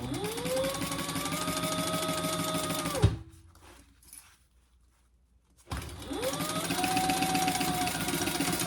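A sewing machine basts together the stacked pieces of a triple-zip crossbody bag, running in a steady close whir, pausing for a few seconds of near silence, then starting up again.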